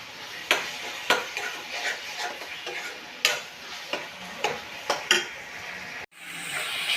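Masala spices, with tomato paste and salt, fry in a pan for a bottle gourd kofta curry, a soft sizzle under sharp, irregular scrapes and taps of a spoon stirring against the metal.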